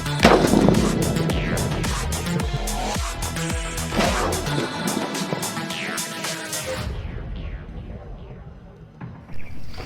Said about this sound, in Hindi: ये था हमारे देसी तोप का ज़बरदस्त धमाका